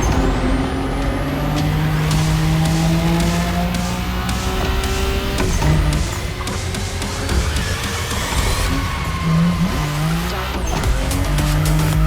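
A car drifts in The Crew Motorfest racing game, with long high tire squeals and screeches rising and falling over a loud revving engine, repeated skids across the whole run.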